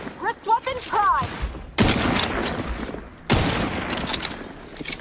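A wrist-mounted weapon firing in the sci-fi game The Outer Worlds 2, two loud, abrupt blasts each trailing into long rumbling noise, preceded by a brief bit of speech.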